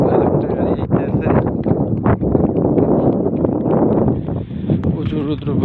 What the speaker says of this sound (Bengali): প্রচুর রৌদ্র প্রচুর হাওয়া।